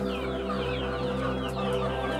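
KUB chickens cluck in a coop, several short, close clucks and calls over a steady low mechanical hum.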